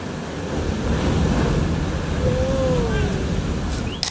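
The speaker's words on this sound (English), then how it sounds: "I do not know what you would think upon seeing a wave like this approaching" Ocean surf rolling toward the shore beside a seaside cafe, a steady broad wash of breaking water and wind that stays loud and constant throughout.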